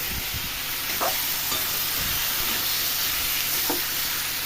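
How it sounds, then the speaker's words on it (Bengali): Shrimp curry sautéing in a pan with potato and pointed gourd, giving a steady close sizzle with a few scraping stirs and no voices. "ঠিক করে কষি আমি জলটা ঢেলে করি"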